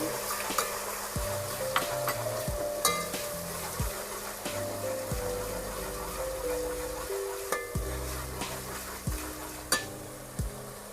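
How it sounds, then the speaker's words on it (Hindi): Ginger garlic paste fries with browned onions in a pan for a masala chicken, a steady soft sizzle broken by the repeated scrape and clink of a spoon stirring against the metal. "अब मैं इसमें अदरक लहसुन का पेस्ट डालती हूँ। इसको भून लेंगे।"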